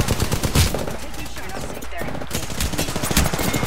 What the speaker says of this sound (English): He's shooting me. He's shooting me.